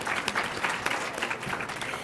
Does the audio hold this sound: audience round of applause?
yes